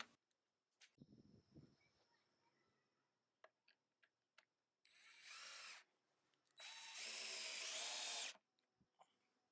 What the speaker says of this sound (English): I am using the counter loop drill to make a small hole